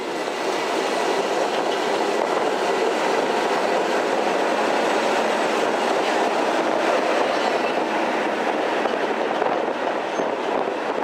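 A 1930s-era DUKW amphibious duck tour vehicle drives westbound along the Galveston seawall, giving a loud, steady rumbling roar with rattling and clatter throughout, close and continuous with no talk.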